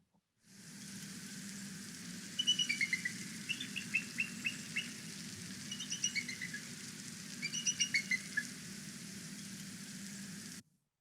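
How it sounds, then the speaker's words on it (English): A bald eagle gives a thin series of tiny high chirps in short bursts, repeated several times over a steady low background hiss, faint and sounding far off. "that little tiny chirping noise, that was the bald eagle"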